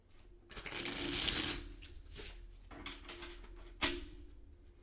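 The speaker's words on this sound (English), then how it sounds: "I'm gonna shuffle." A deck of playing cards is riffled and shuffled close by, with a long rustling burst followed by a few shorter riffles and a sharp snap as the cards settle.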